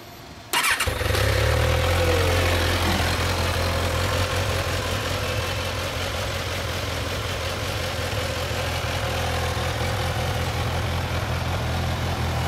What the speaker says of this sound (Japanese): よし、エンジンかけてもらえますか。